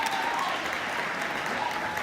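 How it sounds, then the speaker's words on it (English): Steady audience applause for performers at a Shakespeare competition awards presentation, a dense even round of clapping throughout with no break. "I think all of our performers deserve another round of applause"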